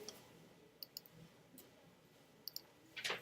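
Mouse buttons click quietly and sharply, in pairs around the first second and again past two and a half seconds, with a slightly louder click-rustle near the end over faint room noise.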